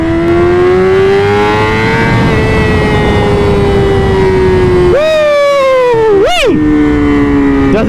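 A motorcycle engine holds a steady, buzzing tone, then blips sharply twice as it downshifts. The revs rise and fall quickly, close and loud.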